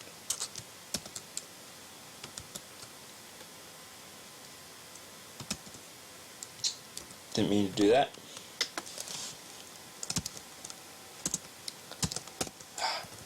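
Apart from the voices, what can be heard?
typing on a computer keyboard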